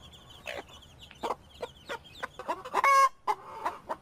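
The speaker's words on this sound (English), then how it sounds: "So I grabbed some audio of someone who's an expert on chicken talk." A Buff Orpington hen clucks in short, irregular bursts, then breaks into a louder, higher trill and cackle near the end, recorded close with no talking.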